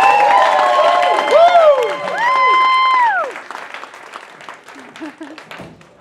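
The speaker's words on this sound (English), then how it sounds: "warm round of applause and make them feel welcome" An audience at a Houston creator day event cheers and applauds, with loud rising and falling whoops over clapping for about three seconds before the noise drops away to scattered, fading claps.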